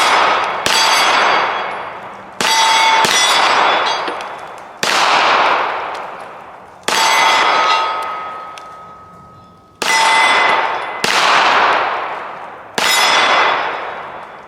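Canik METE SFx Pro pistol fired at a range, seven sharp shots spaced a second or two apart, each with a bright metallic ring from steel targets that decays between rounds, one holding a sustained tone.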